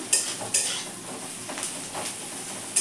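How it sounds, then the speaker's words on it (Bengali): Onion fries in a pan for Bengali mocha ghonto, a close, steady sizzle broken by a few sharp spatula scrapes and clinks against the pan. "পেঁয়াজটা একটু ভেজে নেবো"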